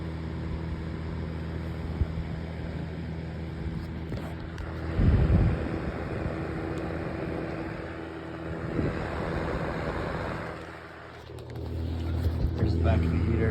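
A Konwin electric heater runs steadily, giving off a continuous low droning hum with a broad airy whoosh and a few brief louder bumps along the way.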